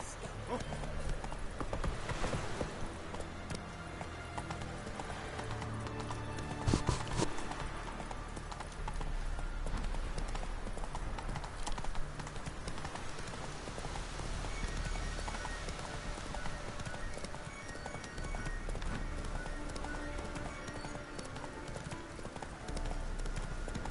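Hoofbeats of Roach, a horse in The Witcher 3: Wild Hunt, clip-clop in a steady rhythm throughout, loud and close under a continuous game score, with a brief louder thud near the middle and a voice speaking.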